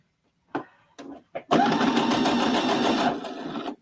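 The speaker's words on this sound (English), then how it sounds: "Let me turn this sewing machine down" A sewing machine stitching a quilt block starts with a few short bursts, then runs in a steady, dense buzzing whir for about two seconds, loud and close, with no talk.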